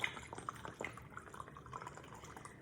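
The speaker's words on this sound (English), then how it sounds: "So we're gonna fill our water bottle until it's about 1/4 of the way full." Vinegar poured into a plastic water bottle until about a quarter full for a carbon dioxide experiment, giving a soft, quiet trickle with a few faint drips, close by and with no talk.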